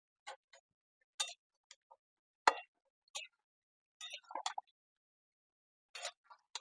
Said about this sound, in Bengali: একটা কাঁচা লঙ্কা চিড়ে আমি এর মধ্যে দিয়ে দিই